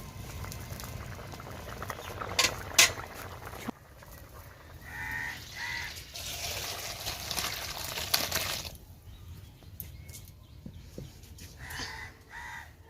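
Potatoes boil in a pot of water on the stove, a close continuous bubbling that swells and fades, with a few clinks of the pot and faint crow caws from outside.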